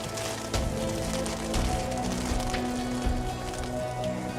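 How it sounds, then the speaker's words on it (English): Hail falling on a garden in an animated children's story, a steady patter of pellets striking the ground and leaves, with a few sharper hits and soft music underneath. "Soon hail came down on the garden."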